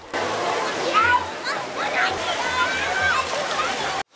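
Water splashes and rushes at a busy outdoor swimming pool with slides on a hot summer day, a steady close wash of spray with crowd chatter and children's voices mixed in.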